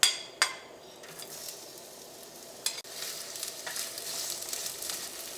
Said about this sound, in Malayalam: ചൂടായ വെളിച്ചെണ്ണയിലേക്ക് നമുക്ക് സവോളയും ഇഞ്ചിയും പച്ചമുളകും ഇട്ടിട്ടൊന്ന് വഴറ്റാം.